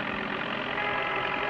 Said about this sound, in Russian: Вон там идет трактор.